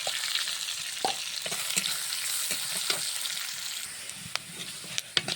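Chopped onion sizzles and crackles steadily in hot oil alongside bay leaves and whole cumin, with occasional sharp stirring clicks against the pan and a few louder pops near the end; no voices.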